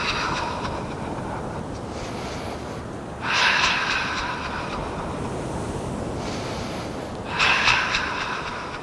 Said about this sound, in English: breath in through your nose, and then a breath out